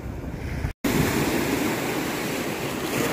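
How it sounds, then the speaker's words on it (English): Incoming tide surf splashing up against a rock on the shore at Fort Clinch, a steady broadband wash of water close to the microphone with wind noise and one brief dropout. "the tide is coming in and it's starting to splash up against this rock"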